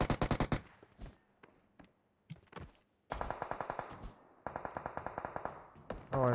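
Rapid gunfire in a video game: sharp bursts of automatic shots crackling close and loud, broken by single scattered shots and short pauses, with several long rattling volleys.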